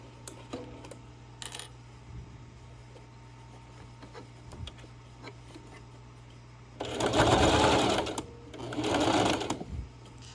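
A sewing machine stitches a seam in two rapid, loud bursts of a few seconds each, following a quieter stretch of small handling clicks.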